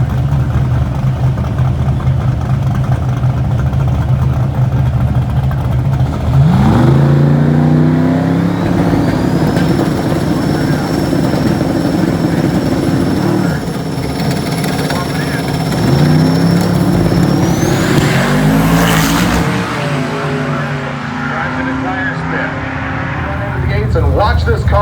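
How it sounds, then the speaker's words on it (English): A drag racing car on 315 drag radial tires launches hard down the Cordova strip at Dragweek 2022, its engine roaring in rising sweeps while a voice talks over the loud, steady noise. "Always love to watch this car run."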